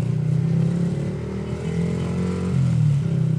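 A Yamaha MT15 150cc single-cylinder motorcycle pulls in second gear on a city street, its engine droning close and steady as it rolls on, with the pitch rising slightly toward the end.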